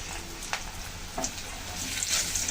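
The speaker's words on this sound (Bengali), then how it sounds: "আমি এখন ফোড়নে দিয়ে দিচ্ছি শুকনো লঙ্কা, তেজপাতা, দিয়েছি গোটা জিরা, দিয়ে দিলাম ফোড়নে" Dried red chili, bay leaf and whole cumin seeds dropped into hot oil for tempering, giving a steady soft sizzle with a few brief crackles and spits, close and moderately quiet, without talk.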